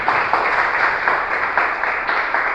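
A church congregation claps together, a steady wash of many hands filling the hall with faint rhythmic peaks, sustained throughout at moderate loudness with no voices over it.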